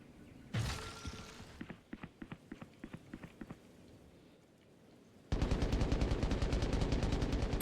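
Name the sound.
gunfire from the video game Valorant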